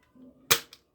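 A toy gun fires once with a sharp, loud crack, followed by a softer second pop, after a faint mechanical click.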